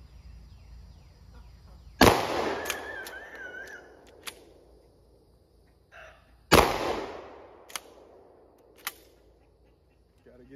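An Escort Slugger Tactical shotgun loaded with buckshot fires two loud, sharp blasts a few seconds apart outdoors, each followed by a decaying echo and a few lighter clicks of handling.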